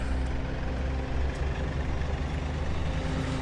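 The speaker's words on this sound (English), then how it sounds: "Looks like we're in a Jeep." Jeep engine in the DCS World flight game, a steady low rumble that runs loud and even throughout without any talk.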